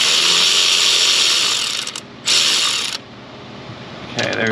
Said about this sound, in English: Come in with the electric ratchet, neutral, drop it.